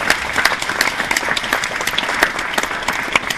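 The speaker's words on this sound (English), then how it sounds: "can we have a round of applause for our speakers today?" An audience at an industry talk applauds its speakers with dense, steady clapping from many hands, loud and close throughout without any speech over it.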